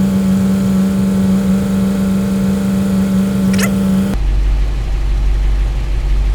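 Car engine held in gear on a stand without wheel chocks, a steady loud mid-pitched hum with a low drone, the tone abruptly shifting to a deeper, rougher rumble partway through.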